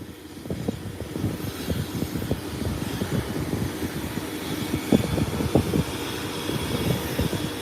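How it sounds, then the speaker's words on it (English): An ATR turboprop airliner sits on the runway before takeoff, giving a steady, rumbling propeller and engine drone heard from a distance outdoors. The drone holds for several seconds with some uneven low flutter, and no one talks. "the ATR is on the runway. About to take off"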